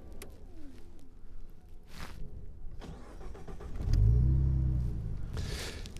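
A 2015 Morgan Roadster with a 3.7-litre V6 starts: a quiet clicking key turn, a brief starter whir, then the engine catches with a loud, close low rumble that settles into a steady idle.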